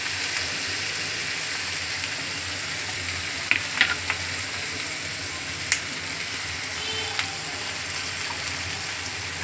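Onions frying in a pan for fried rice give a steady, even sizzle throughout, broken by a few sharp clicks and taps near the pan, with no talking.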